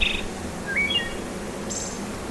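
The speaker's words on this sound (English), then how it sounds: "I hear a wood thrush" A wood thrush sings from a nearby tree in brief, clear fluting phrases separated by pauses, fairly faint over a steady outdoor hiss.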